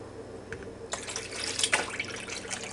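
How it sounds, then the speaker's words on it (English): Two cups of cold water poured onto dissolved Jello for a strawberry banana fluff, a steady splashing pour starting softly and swelling to a fuller, brighter stream that continues to the end. "I've got 2 cups of cold water. We're just going to add that right on."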